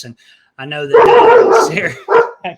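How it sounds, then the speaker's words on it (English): A guard dog at an RV campsite lets out a few short, sharp barks close by, mixed in with and following a person talking. "that's my dog. That's Brett. That's our guard dog."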